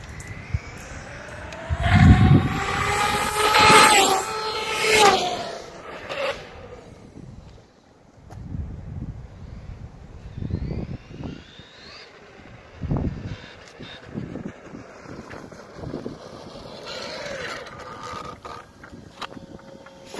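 A Traxxas Maxx RC truck on HoBao MT Sport take-off wheels races away at speed, its electric motor whining loudly and rising at first, then fading into fainter, intermittent buzzing as it runs far off.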